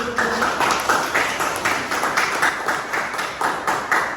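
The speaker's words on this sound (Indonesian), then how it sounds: "Tepuk tangan dulu." Students in a classroom clap their hands in a rhythmic pattern of repeated bursts, moderately loud and close, with faint voices mixed in.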